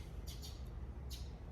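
A pet bird gives three short, sharp squawks indoors, two close together and one a moment later, fairly faint over a low room hum.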